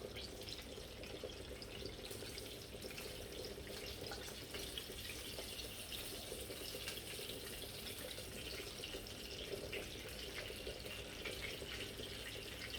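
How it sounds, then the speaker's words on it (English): Crumbed lamb cutlets sizzle steadily in hot oil, a dense, even hiss and crackle that holds at the same loudness throughout with no voices over it. "we're going to drop them straight in the hot oil"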